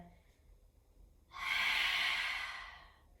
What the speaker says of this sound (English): Breathing in through the back of the ribs and exhaling, letting everything go.